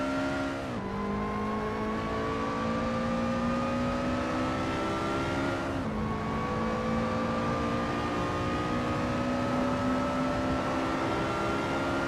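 A Lotus Evora S engine in a racing video game drones steadily at high revs, pitch climbing slowly, with two abrupt gear-change drops partway through, loud and continuous with no talk.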